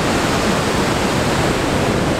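River rushing below the Pailón del Diablo waterfall in Ecuador, a loud, steady, dense roar of churning water without pause.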